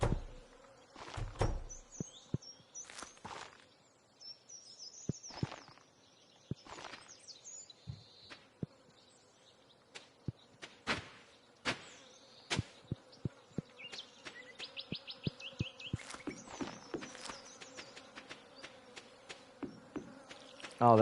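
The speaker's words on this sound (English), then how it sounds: "God, those bees are loud." Bees buzz loudly around a valley outdoors, drones of wingbeat rising and falling as they pass close, with sharp clicks and taps between and faint birdsong in the background; no talking.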